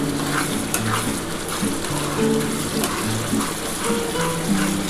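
Masala spice paste for a restaurant-style egg curry frying and being stirred in oil, a steady close sizzle with soft scraping strokes running throughout, no talking.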